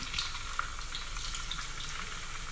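Chicken pieces frying in hot oil give a steady, close crackling sizzle with tiny pops throughout, with no voices.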